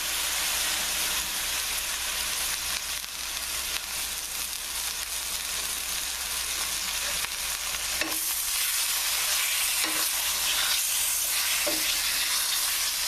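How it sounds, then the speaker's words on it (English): Lamb meat sautéing in a pot over a very high flame, a loud continuous hissing sizzle with occasional stirring scrapes and small pops, no talk. "it's better to saute the meat a little bit and get that flavor than just throwing it into the crock pot raw"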